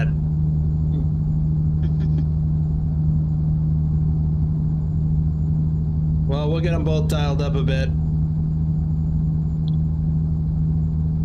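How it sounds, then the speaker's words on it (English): A truck engine in American Truck Simulator drones as a steady low rumble throughout, with someone talking briefly over it partway through. "This truck is kind of loud"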